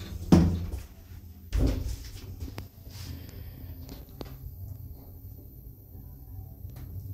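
A 2004 Oakland lift in a Nottingham shopping mall closes its doors, giving two dull thuds a little over a second apart, followed by a quiet room hum.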